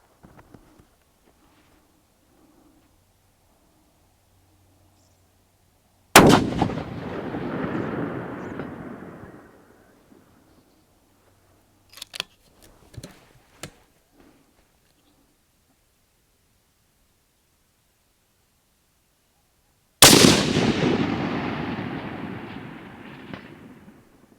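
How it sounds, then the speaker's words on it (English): Two loud, sharp rifle shots from a Remington 700 SPS AAC-SD in 6.5 Creedmoor fired at long range, each a close crack followed by a long decaying boom, well apart, with a few faint clicks between. "I only took one shot just to know where I was going there at 800"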